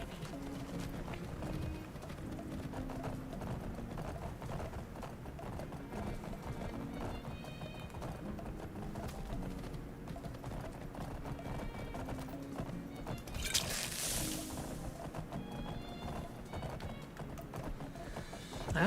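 Horse hooves clip-clop steadily in the Skyrim Special Edition video game, a continuous rhythmic patter under dense game audio, with an occasional whinny and a brief hiss partway through.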